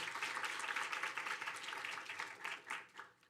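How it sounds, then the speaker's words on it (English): Applause from the audience at a graduate student mentoring award ceremony, fairly quiet and distant, rising and fading over a few seconds. "can we get a round of applause?"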